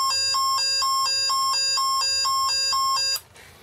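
A Velleman MK113 sound generator kit sounds an electronic two-tone siren alternating rapidly between high and low pitches, loud and close, imitating an ambulance, then cuts off abruptly.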